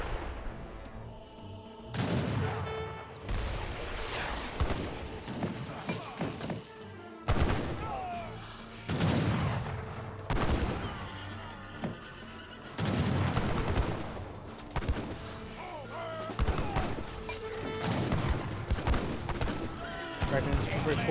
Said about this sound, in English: Artillery now raining on.